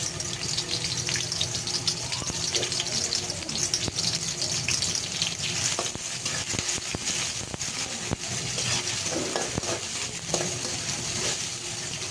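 Chopped onion and chilli frying in hot oil in a pan, a loud, dense, continuous sizzle with a gushing texture and occasional stirring clinks, steady and close throughout.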